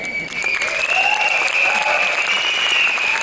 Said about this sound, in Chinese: 请掌声一下，谢谢你们